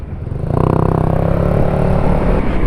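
A motorcycle engine revs up and holds a loud, throbbing drone, close by and steady after a quieter start, heard during a group ride with no voices over it.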